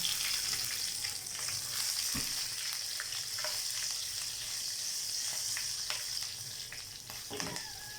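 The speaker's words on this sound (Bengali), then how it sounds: "জিরে আর শুকনো লঙ্কাটা ভাজা হয়ে গেছে এবার দিচ্ছি দুটো কেটে রাখা কাঁচা লঙ্কা" Green chillies frying in hot oil with cumin seeds and dried red chilli, a steady close crackling sizzle with occasional sharper pops and stirring scrapes, no talking.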